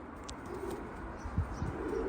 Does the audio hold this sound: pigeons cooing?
yes